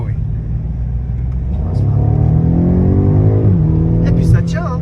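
BMW M5 F90 accelerating on the road, heard from inside with a steady deep engine rumble that climbs in pitch as it revs, loud and continuous, while someone talks over it.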